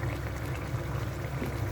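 A prawn fish curry with pumpkin comes to a boil in a pot, giving a soft steady bubbling and low gurgling close by, with no talking.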